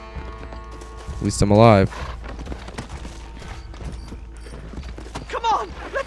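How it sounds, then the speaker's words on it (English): Horse hooves clip-clop in the Red Dead Redemption video game, a steady light patter under character dialogue, with a brief loud swell of music or a voice mid-clip. "The horses should be in an alleyway down here."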